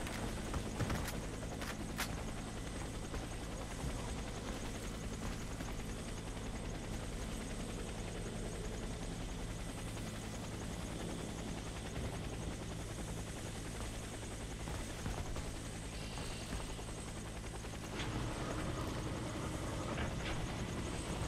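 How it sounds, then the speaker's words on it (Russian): A helicopter passes with a steady, throbbing rotor chop and engine drone that stays loud and continuous throughout, with no voices heard. "Вертолет проходит."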